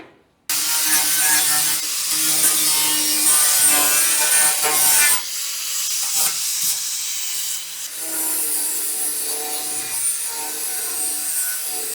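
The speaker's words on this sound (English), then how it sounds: "let me get a grinder and take a sharp edge off, because that's just like a razor." A grinder grinds loudly against the cut steel edge of a 1965 Chevrolet C10 truck bed side, harsh and continuous with brief pauses and shifts in pitch as it moves along the metal.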